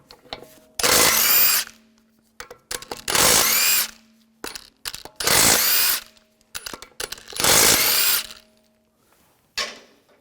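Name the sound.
power tool with 17mm socket removing lug bolts on Audi A4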